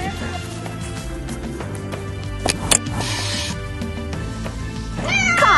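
A cat meows in a bright commercial setting, a short call near the end standing out over steady background music and a spoken voice-over.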